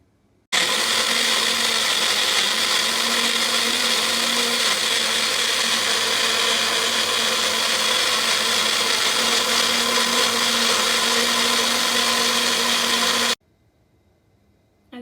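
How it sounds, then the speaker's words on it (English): A kitchen blender whirs loudly and steadily for about thirteen seconds as it purees green chutney with yogurt, then stops abruptly, leaving near silence. "our green chutney has just come out of the blender, blended everything up"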